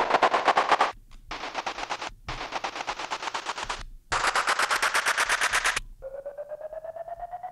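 An Ableton device generates raw buildup and drop sound effects: loud, rapid stuttering bursts in several blocks separated by short gaps, ending in a quieter pitched, buzzing tone. No voice is heard.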